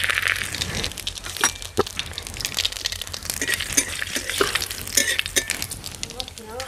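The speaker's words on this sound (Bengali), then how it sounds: "আমি জিরে আর তেজপাতা ফোড়ন দিয়ে দিচ্ছি।" Cumin seeds and bay leaves sizzling in hot mustard oil in a wok, a steady crackling fry with sharp popping spikes and scraping stirs throughout, fairly close and loud.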